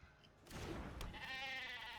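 A sheep bleats in the card game MTG Arena, one clear, wavering animal cry that follows a brief thud of a card being placed, close and fairly quiet.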